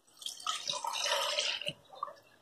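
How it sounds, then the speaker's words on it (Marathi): Water poured from a glass into a pan of peanut aamti, a close splashing, gurgling pour lasting about a second and a half, then a few trailing drips, with no talk. "आता मी 1 ग्लास याच्यामध्ये पाणी टाकलंय"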